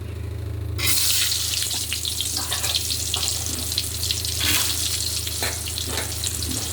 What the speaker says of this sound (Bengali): আলুটা ভেজে নেব, সব আলুগুলো ভেজে নেব এক এক করে